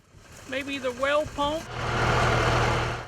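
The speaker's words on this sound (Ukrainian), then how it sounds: "робить морозиво у мішалці, яку приводить у дію двигун виробництва 1918 року" An old engine built in 1918 drives an ice cream churn at a farm, a steady low mechanical rumble rising and holding for the last half after someone speaks over quieter background noise.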